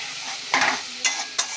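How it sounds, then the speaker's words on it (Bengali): Spices for a lote (Bombay duck) fish curry fry in a pan with a splash of water, giving a constant close sizzle broken by three quick scraping strokes of the stirring spoon. "মশলাটাকে একটু কষিয়ে নেবো ভালো করে"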